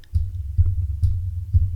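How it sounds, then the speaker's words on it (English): Four dull, low thumps of a microphone boom arm being bumped land at a steady pace, each a short resonant knock close to the microphone, with quiet hum between. "the noise of just banging into the boom arm here"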